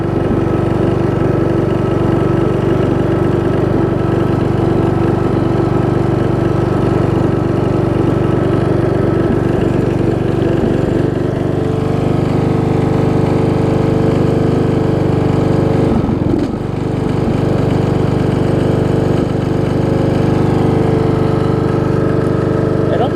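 Engine of a Craftsman riding lawn mower with a flat left rear tire runs steadily and loudly throughout, a near, continuous droning hum with a brief dip in the middle and no talk.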